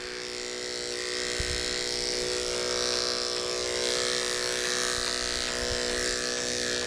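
Electric clippers buzz steadily while the corners of the blade trim hair on a dog's feet, a continuous close hum with a light hiss and no talk.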